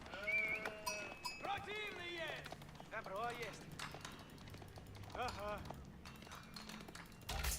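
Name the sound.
sheep bleating in the video game Age of Empires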